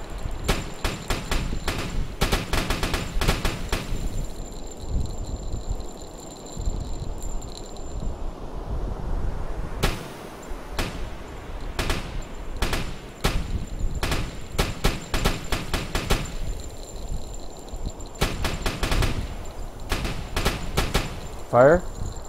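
Sharp rifle and gun shots crack repeatedly in a U-boat naval combat game, some in rapid bursts and others spaced apart, over a steady background of wind and sea noise.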